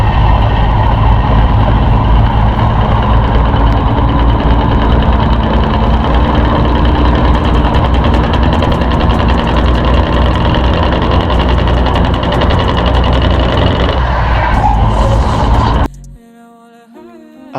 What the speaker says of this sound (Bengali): জাস্ট এইটার ইঞ্জিনের সাউন্ডটা শোনেন